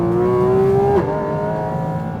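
A Porsche Cayman GT4 RS engine holds a loud, steady high rev, then the pitch drops sharply as the note shifts and carries on.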